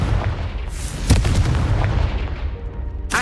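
A Confringo blasting spell explodes in the video game Hogwarts Legacy, a loud booming blast with sharp cracks over dense rumbling game noise, followed by another bright burst at the end.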